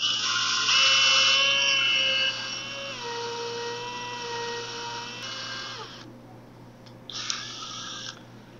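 A high-pitched drill whines steadily while lapping an engine valve, its pitch dipping as the load changes, then cuts out around six seconds before a brief final burst.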